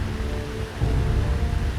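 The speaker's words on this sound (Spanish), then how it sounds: "La lluvia caía más y más fuerte." Rain pours down hard as a continuous broadband roar with a low rumble, swelling midway and then holding steady, with no one talking.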